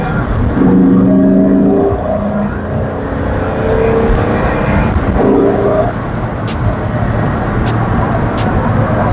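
A Pagani Huayra BC sports car drives in sport mode on roads near Modena, its loud engine note rising and falling continuously throughout, with a few brief sharp higher-pitched sounds layered above.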